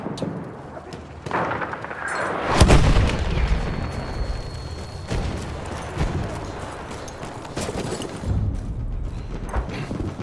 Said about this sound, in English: Artillery battery, be careful.